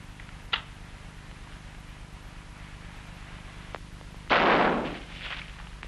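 Rifle shots at pigeons in an adventure film, a sharp crack early on, a faint tick later, then a louder blast that fades over about a second, over a steady hum.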